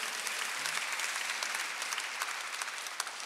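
Congregation applauding during a Korean church Sunday worship service, a dense, even burst of many hands clapping for about three seconds, moderately loud with no voices over it.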